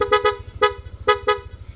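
A Yamaha Aerox V2 scooter's horn blasts in short, sharp toots: two quick pairs and a single honk, loud and close, with an engine ticking underneath.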